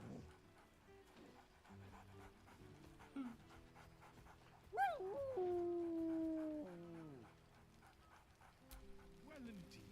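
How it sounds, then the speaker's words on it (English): Scratch, the dog in Baldur's Gate 3, pants, yelps and lets out a rising whining howl, faint and close under the game's quiet background, with a drawn-out whimper in the middle. "Scratch barks merrily in something like agreement. He whines."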